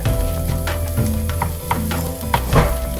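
Bread upma sizzling and roasting over a slow flame in a nonstick pan, a steady crackling fry broken by scraping stirs every half second or so.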